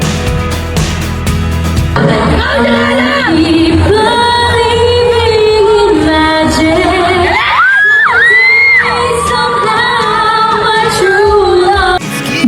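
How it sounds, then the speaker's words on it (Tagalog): Students on a campus tour scream, whoop and cheer loudly after an a cappella song, a dense crowd roar with shrill yells rising above it, some calls sustained and some short. "Grabe hiyawan ulit at kinilig sa kanyang kanta ang mga estudyante"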